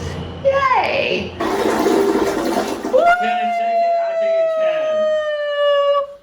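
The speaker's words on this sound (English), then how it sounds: "They have a good flush to them, the Toto." A new Toto toilet in a renovated condo flushes with a loud rushing roar of water, then gives way to a steady, high whistling refill tone that holds for several seconds.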